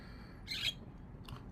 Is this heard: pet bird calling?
yes